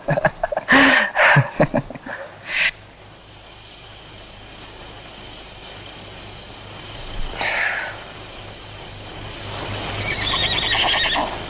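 A horse just back from training gives a series of loud, close neighs and snorts with some hoof clatter, then a long stretch of steady cricket chirping outdoors, with a fainter whinny later.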